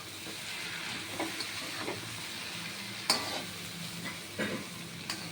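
Cabbage frying in a pan for Bengali cabbage ghanta, a steady sizzle and hiss with scattered clinks and scrapes of a spoon stirring, close and moderately quiet, no talking.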